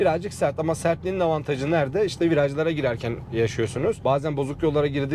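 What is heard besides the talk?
No distinct noise like a dog, phone or traffic.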